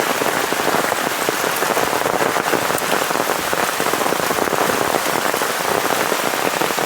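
Heavy monsoon rain pours in Konkan, a dense and steady roar of drops hitting surfaces that holds unbroken and loud throughout, with no voices.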